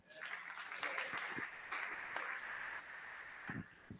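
Audience applause at an education conference breakout session, a steady broadband patter of clapping from a moderately distant crowd lasting several seconds with a few sharper claps standing out.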